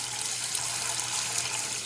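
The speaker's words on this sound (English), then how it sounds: "make sure that you're filling the pot just to about an inch over the eggs" Cold water runs from a tap into a cooking pot holding eggs, a steady close splashing hiss throughout the short stretch.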